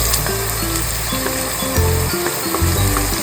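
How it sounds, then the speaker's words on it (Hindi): Chopped onions and coriander fry in hot oil for a curry, giving a steady, loud sizzle close by with a few faint clicks and stirring sounds underneath, no talking. "यहाँ पे ऑयल गर्म हो चुका है, ये मैंने इसमें डाला प्याज।"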